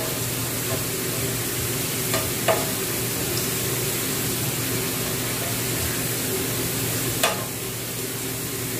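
Garlic frying in oil for chili garlic oil, a steady, even sizzle with occasional stirring clinks and scrapes, close and continuous throughout.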